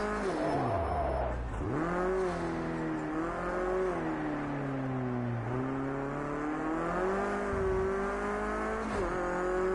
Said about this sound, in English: Can you hear the tyres?